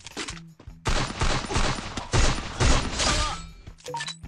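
Bursts of automatic gunfire from the Free Fire shooter game, loud rapid volleys in several clusters separated by short pauses, with faint sounds between them.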